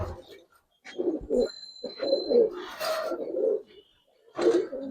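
A silver Giribaz pigeon coos in several throaty bursts separated by short pauses, close and fairly loud with no talking.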